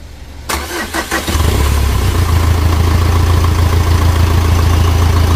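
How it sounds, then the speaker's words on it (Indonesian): A Mitsubishi Strada Triton engine is being reassembled and cranked with the starter: a few quick cranking bursts, then it catches and settles into a loud, steady, close idle rumble. "Di starter deh."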